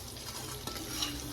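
Chicken seasoned with garlic powder frying in a pan, a steady close sizzle with a soft stir or clink partway through, no voices.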